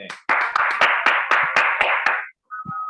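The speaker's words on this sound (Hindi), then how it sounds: "का हम तालियों के साथ स्वागत करते हैं।" A small indoor group gives a short round of welcoming applause for achievers, sharp claps in a quick loose rhythm that stop abruptly, followed by a brief tone.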